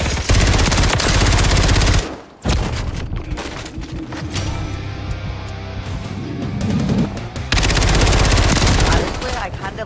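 Revolver fire in Call of Duty MW3, several close, loud bursts of rapid shots in stretches of a couple of seconds, with a brief lull between them and talk over the shooting.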